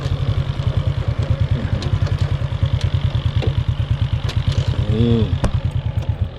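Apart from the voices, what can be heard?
tractor leveling soil at construction site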